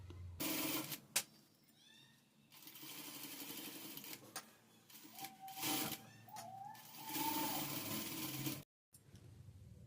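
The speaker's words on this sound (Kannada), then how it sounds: "ಇದ್ರ ಮೇಲೆ ಇಲ್ಲಿ ನಾವು ಕಿನಾರಿಯನ್ನು ಹೊಲ್ಕೊಂಡು ಬರಬೇಕು" A sewing machine stitching border trim onto a work blouse, bursts of fast mechanical whirring stop and start in short runs, with brief pauses and a faint bird call in the background.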